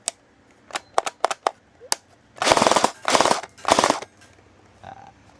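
A Sijun AUG gel blaster toy fires after a repair: a few sharp single clicks, then three dense rapid-fire bursts of about half a second each, loud and close, with no talking.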